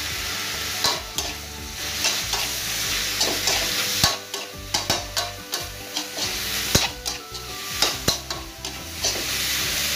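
Pork belly is stir-fried with kaffir lime leaves, steady sizzling and frying under repeated scraping, clacking stirs of a utensil against the pan. The sounds are loud and close, and no one talks.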